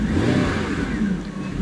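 The engine of a 1999 Jaguar XK8 convertible revs as the gas is pressed, a brief, loud, close roar that swells and then eases slightly, with no sputter or pops.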